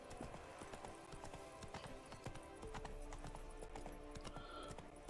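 Hooves of Roach, the horse in The Witcher 3: Wild Hunt on PS5, clop in a steady faint rhythm on hard ground, with a soft snort amid the walking.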